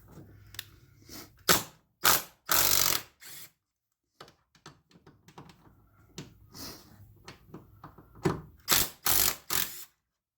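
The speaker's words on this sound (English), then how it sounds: "I had to grab my snap-on 13 millimeter wrench to get these" Snap-on 13 mm ratchet wrench loosening strut bolts on a 2014 Dodge Challenger, heard as several bursts of rapid ratcheting clicks separated by pauses, close and fairly quiet.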